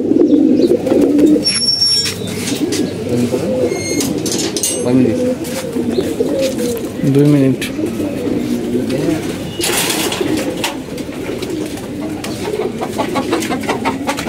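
Racing pigeons cooing in a hot loft with chickens kept nearby, repeated low throaty coos overlapping in a steady chorus up close, while people talk briefly over them and faint clucks and rustles come through.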